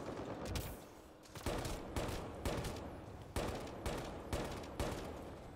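Gunfire in Mass Effect Andromeda, heard as repeated loud bursts of shots at a steady rhythm, roughly every half second, over a noisy combat background, with no speech.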